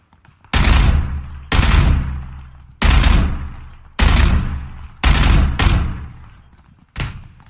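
Heavy rifle fire in PlayerUnknown's Battlegrounds: six loud, booming single shots spaced roughly a second apart, each with a sharp crack and a long rumbling decay, with no voices.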